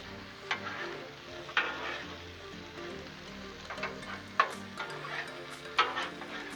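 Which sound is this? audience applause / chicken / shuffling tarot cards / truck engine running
chicken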